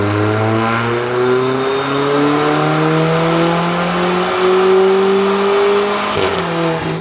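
A tuned VW Polo with a cold air intake and Stage 2 tuning revs on a dyno, its engine note climbing steadily in one long, loud, close pull that cuts off at the end.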